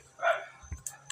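Guard dogs barking at a compound, a single faint bark followed by a couple of short distant yips, brief and quiet.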